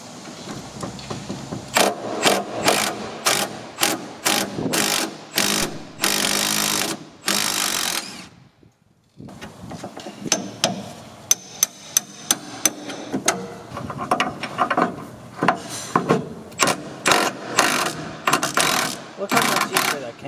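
A wrench cranks a rusty bolt out of a Subaru WRX suspension bushing, giving loud, close ratcheting clicks and sharp metallic knocks in irregular bursts, broken by a brief pause.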